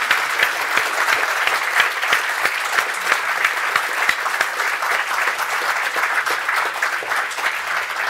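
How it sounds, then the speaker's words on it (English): Applause from a conference audience, continuous and dense with crisp individual claps, sustained evenly for about eight seconds without talk over it. "we should give him a round of applause while people are moving"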